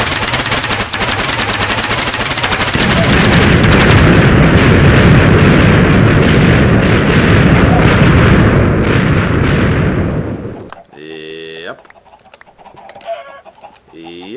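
Barrage of elemental arrows fired straight up in Minecraft: a loud, dense, continuous crackling and thudding roar for about ten seconds that suddenly cuts off, followed by quieter scattered game effects.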